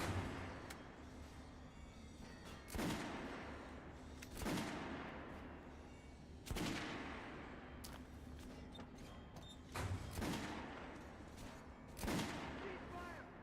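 Gunfire at an underground shooting range in Metro Last Light Redux: six loud, sharp shots spaced about two seconds apart, each followed by a ringing decay over a steady low hum.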